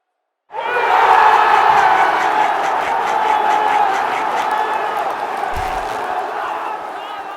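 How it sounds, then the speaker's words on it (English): A wrestling crowd erupts into wild cheering and shouting that swells abruptly, stays loud and dense, then eases slightly while a dull thump lands near the end. "Wally sure has that crowd going wild"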